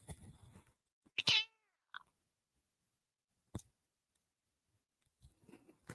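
A house cat gives a few short, close meows with quiet gaps between them, and a faint voice murmurs at the start and end.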